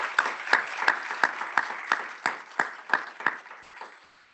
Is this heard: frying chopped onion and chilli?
no